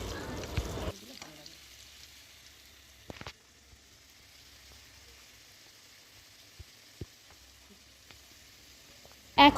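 Potatoes frying in hot oil give off a faint, steady sizzle, with a few short clatters and a louder knock at the end.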